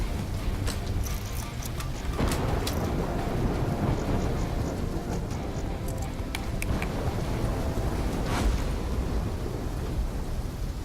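A thunderstorm with rain and wind in the Call of Duty: Black Ops 3 game, heavy rain roaring steadily while several thunder cracks and rumbles break through, loud and close throughout.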